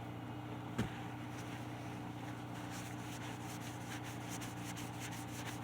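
Close, steady rubbing of a cloth polishing a guitar with a soft, oily blend of waxes including beeswax, a continuous dry swish under a low constant hum, with one brief knock near the start.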